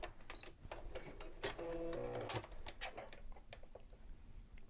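A sewing machine stitches fabric with a hemmer foot, a faint rapid mechanical rattle with irregular clicks and ticks, quiet and close, running briefly in bursts with small handling noises around it.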